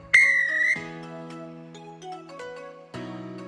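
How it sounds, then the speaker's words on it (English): A referee's whistle gives one loud shrill blast that lasts under a second, followed by sustained musical tones with several more soft accents. "This is the final whistle."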